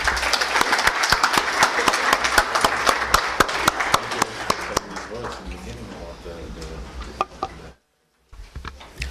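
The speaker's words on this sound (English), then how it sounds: "Please join me in giving Dr. Hamid a round of applause." Seminar audience giving a round of applause, dense clapping that thins out after about five seconds into scattered claps and speech, then a brief silence.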